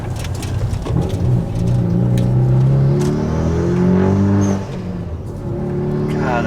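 A 2016 Kia Forte running on E85 revs hard, engine note climbing and holding loud and close, then dropping off with a blow-off valve whoosh and chatter before building again.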